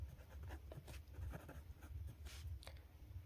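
Chalk or a marker scratches across a board in short, close strokes during a math lesson, over a steady low background hum.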